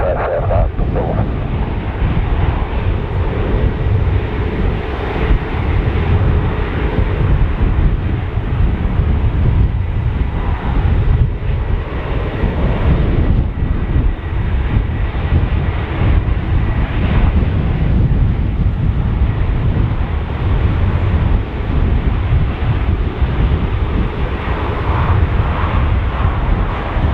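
Aircraft taking off in strong crosswind at Dublin Airport, a heavy continuous roar of engine and wind buffeting, loud and unbroken throughout, with radio talk faintly under it.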